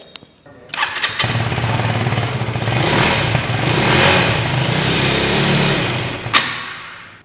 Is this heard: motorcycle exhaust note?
yes